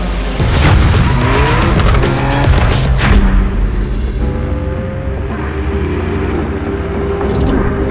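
A regular BMW M3 slides across a skid pan, its tires squealing in drawn-out, wavering tones over a loud, roaring engine. The sound stays continuous and close for the whole stretch with no talking.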